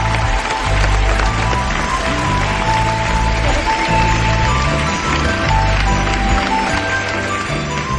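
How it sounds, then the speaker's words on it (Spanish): A studio audience on a Spanish TV show applauds an actress, a loud, sustained crowd clap running the full length under steady background music and some broadcast sound. "por favor, un aplauso para Maya Prieto"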